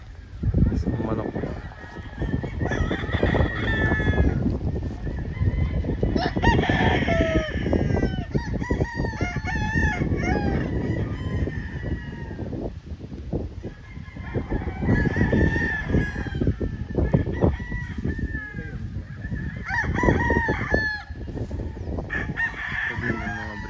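A gamecock crows loudly several times at a game fowl farm in Bicol, over a dense background of clucking chickens and other fowl, with occasional voices mixed in.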